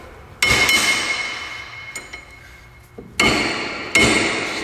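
A hammer drives a drift punch against a rusted, stuck rear brake caliper, ringing metallic strikes landing one at a time, four loud close blows with brief decaying rings and a few lighter taps between.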